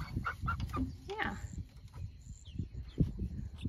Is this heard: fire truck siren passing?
no